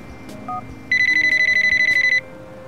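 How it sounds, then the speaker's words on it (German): A phone text-message notification in the video game Nico der Profi: a short electronic beep, then a rapid trilling ring lasting just over a second, clear and close. "Textnachricht erhalten."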